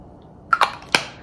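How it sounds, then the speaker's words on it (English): Charlotte Tilbury Airbrush Flawless setting spray misted close up: a few quick pump hisses in rapid succession, the last slightly separated, over a quiet background. "start with the Charlotte Tilbury airbrush setting spray, airbrush flawless setting spray."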